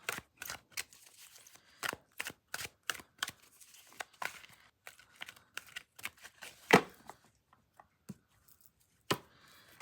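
Thin, glossy, plasticky Galactic Heritage oracle cards are shuffled by hand in a quiet room, producing irregular soft snaps and riffles with short gaps between them and one louder slap.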